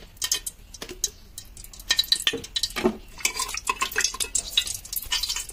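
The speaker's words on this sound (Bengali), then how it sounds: "এবার আমি 2 চামচ ঘি দিচ্ছি।" Ghee being added to a pot of Hyderabadi beef and mutton halim, with a spoon scraping and clinking against metal, light sizzling and stirring, close and busy, no talk.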